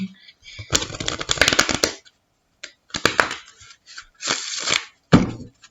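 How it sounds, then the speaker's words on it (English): Tarot cards being shuffled in several quick riffling bursts, crisp flapping and snapping, close and fairly loud, with short pauses between. "My cards don't want to shuffle or what today?"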